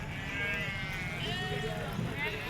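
Sheep offered for sale to farmers bleat in a faint, wavering cry that carries over a low, steady background murmur of voices.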